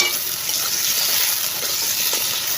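Ridge gourd and eggplant pieces being stirred in a pan, a steady wet sizzling and scraping hiss that stays even and close throughout, with no talking.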